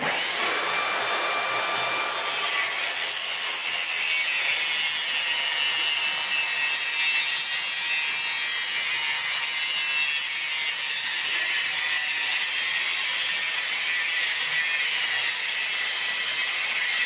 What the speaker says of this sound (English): You can see the material that this grinder removes.